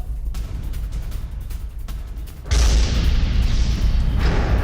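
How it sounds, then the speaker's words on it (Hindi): A heavy explosion among 12 oil tankers at Qasr-e-Shirin, Iran, near the Iraq border, breaks in midway as a sudden loud, broad booming roar that stays sustained over a lower rumbling background. "इराक बॉर्डर के पास 12 तेल टैंकरों में भारी विस्फोट"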